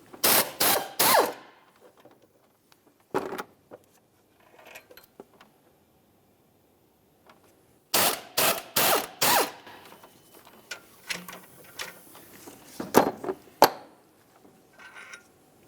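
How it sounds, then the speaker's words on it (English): A 13mm ratchet clicks in rapid bursts while removing the alternator mounting bolts on a 2002-2005 Ford Explorer, with several close, sharp clicking runs separated by quieter handling noises. "Let's use a 13mm to remove all three of our mounting bolts."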